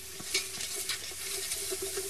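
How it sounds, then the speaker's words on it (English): A dry masala of ground cloves, mace, cardamom and cinnamon fries over fairly low heat while a spoon stirs and scrapes it around the pan, giving a steady close sizzle with small scraping taps. "Get the powderiness out of it by cooking and stirring all the time over a fairly low heat"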